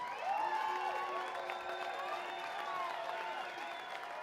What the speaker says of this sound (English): let's get a big New York City round of applause for these two warriors